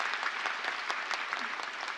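A church congregation applauds at a revival prayer service: dense, steady clapping from many hands fills the room for the whole stretch, moderately loud, with no speech over it.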